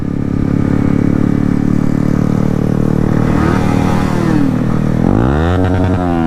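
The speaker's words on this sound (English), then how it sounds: "And the guy behind me revving his bike is Malcolm the crazy guy." A motorcycle engine revs loudly and continuously during a group ride of about twenty riders on a road trip to waterfalls, with a sharp rise in revs near the end.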